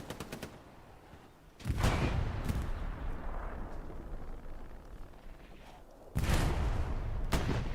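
Machine gun fire in Hell Let Loose on Elsenborn Ridge, several loud bursts and booming impacts over a busy distant battlefield rumble, with quieter crackling shots between them.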